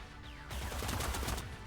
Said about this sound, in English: You have all heard gunfire, so you're all angsty